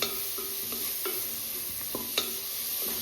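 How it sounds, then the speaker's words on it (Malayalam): Tomato sautés in a pan for egg curry, a constant even sizzle broken by a few light scraping stirs of a spatula against the pan. "ഇനി നമുക്ക് ഇതിലേക്ക് ഈ തക്കാളി ഇട്ട് കൊടുക്കാം"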